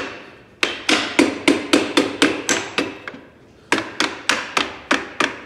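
Repeated sharp wooden knocks as a scrap lumber piece taps down parts of a wooden beehive frame, in two quick runs of about seven and six strikes separated by a brief pause, close and loud.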